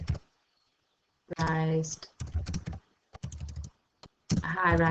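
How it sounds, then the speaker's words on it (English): Quick computer keyboard typing, a few scattered clicks falling in the pauses while a voice talks through most of the stretch. "Trying to type too quick."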